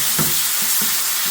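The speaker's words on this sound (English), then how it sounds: "Next we're going to add ginger and garlic paste." Ginger and garlic paste sizzling in a hot pan for a Madras curry, a steady close hiss of frying with a few soft stirring scrapes, no voices.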